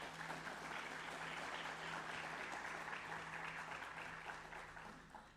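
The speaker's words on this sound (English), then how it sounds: "Can we have a round of applause for Charlie?" Audience applause at a university president's town hall, a steady wash of clapping from a crowd that holds evenly and then tapers slightly at the end, with a faint electrical hum beneath.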